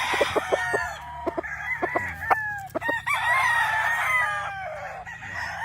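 A Black Beauty gamefowl rooster on a gamefarm crows loudly and close by, a drawn-out cock-a-doodle-doo mixed with clucks and other fowl calls, with more birds crowing around it.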